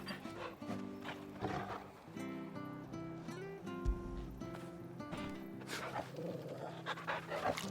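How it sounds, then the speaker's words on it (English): A dog in the Final Fantasy XVI video game pants steadily while being petted, rhythmic breathy huffs layered over game music and ambient sound. "I'll just pet the dog over and over again"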